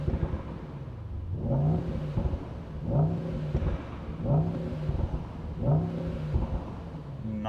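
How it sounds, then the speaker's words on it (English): A Brabus Rocket GTS with a modified V8 and Brabus exhaust revs repeatedly from inside the car, four deep rhythmic surges of engine roar rising and falling against a steady idle rumble, with no talk. "We have a new Brabus exhaust with this one here."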